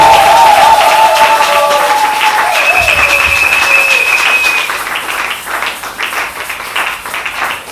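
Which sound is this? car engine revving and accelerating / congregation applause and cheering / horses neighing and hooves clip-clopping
congregation applause and cheering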